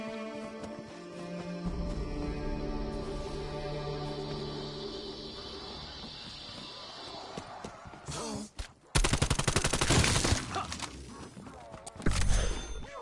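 Submachine gun fire in a video game: tonal music and game sounds give way to a dense, rapid burst of automatic shots near the end, followed by another short burst.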